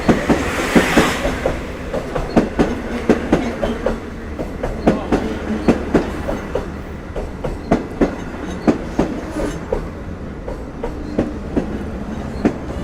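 A Long Island Rail Road train rolls past close by at Westhampton, its wheels clacking in a steady rhythm over the rails for the whole stretch, with a low rumble underneath.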